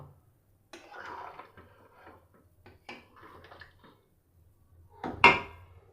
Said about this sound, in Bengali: এবার আমি এতে দিয়ে দেব ভেজে রাখা আলুগুলো